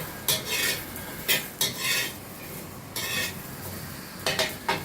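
Lemongrass and galangal being dry-roasted in a pan, with repeated scraping and stirring strokes of a utensil against the metal in irregular bursts, close by, over a faint background hiss.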